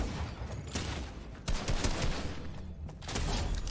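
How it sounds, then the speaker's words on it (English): Rapid gunfire in Fortnite, a dense burst of game shots fired at an enemy, loud and close with sharp cracks over a continuous noisy battle backdrop, no speech. "you find an enemy, and you simply shoot them"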